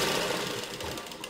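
A sewing machine stitches around a pregnancy dress neckline, a continuous close, fairly quiet mechanical whir and rapid needle rattle with no voices.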